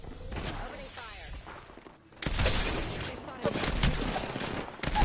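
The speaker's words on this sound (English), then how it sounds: "Opening fire." Rapid, dense bursts of gunfire from the battle royale video game Apex Legends, loud and close, with a brief lull near the middle before a heavier barrage of overlapping shots and impacts. Voices are faintly mixed in beneath the shooting.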